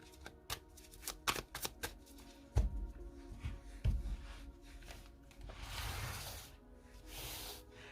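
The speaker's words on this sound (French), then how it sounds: "je pose les cartes du The Light Seers Tarot pour recouvrir avec tout le jeu" Light Seers Tarot cards being laid out and shuffled: a run of soft papery slaps and flicks, then a longer sliding shuffle of the deck, close and quiet with no talking.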